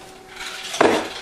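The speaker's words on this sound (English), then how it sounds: "I count out my 60 caps, and I put them in a little bowl of sanitizer" Metal bottle caps for home-bottled beer drop into a small bowl of sanitizer, giving one short, bright clatter near the end of a quiet moment.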